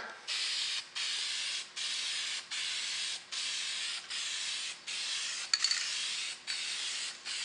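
Spray painting a snow blower's rear guard cover: repeated bursts of an aerosol or spray gun hiss, about nine passes of roughly half a second each separated by short gaps, close and steady, with no talk.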